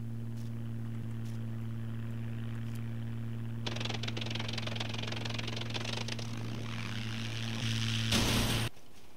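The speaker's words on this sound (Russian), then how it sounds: "Открытый самолет." Propeller airplane engine in the video game Scum, a steady droning idle with strong low hum that swells louder and rougher partway through, then surges briefly near the end before dropping back.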